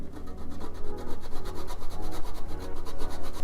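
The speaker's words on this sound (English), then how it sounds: "Then I'm gonna grate in some vegan parm using the Violife one." Vegan parmesan cheese, Violife brand, grated by hand in a home kitchen: a steady run of rapid rasping strokes, close and fairly loud, with no talking.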